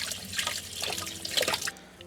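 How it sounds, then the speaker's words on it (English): Asparagus spears rinsed under a cold kitchen tap in a campervan, water splashing and dripping at a moderate, close level for a couple of seconds, no voices. "What I like to do is just give them a little rinse under some cold water"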